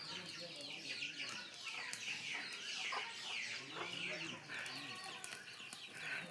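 Chickens clucking and squawking in agitated bursts, fairly faint, while one is being cut, with a murmur of voices and background noise throughout.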